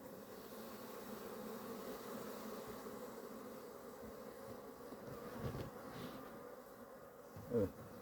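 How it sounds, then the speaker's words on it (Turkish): Honey bees swarm and buzz steadily around an opened hive frame during an autumn honey harvest, a continuous close droning hum with one brief louder pass near the end. "buraya silktiğim zaman arıları kalabalık olacak"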